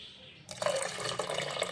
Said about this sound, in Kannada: ಸ್ವಲ್ಪ ನೀರು ಹಾಕ್ಕೊಳಮ್ರಿ.